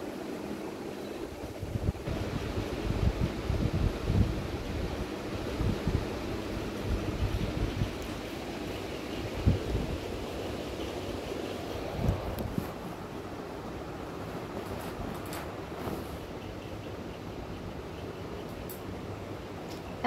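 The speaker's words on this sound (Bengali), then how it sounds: "এবার কিন্তু চপগুলো বা পকোড়াগুলো কিন্তু ভেজে নিচ্ছি।" Potato and semolina pakoras deep-fry in oil over a medium gas flame, giving a steady, close sizzle with occasional crackles and pops throughout and no talking.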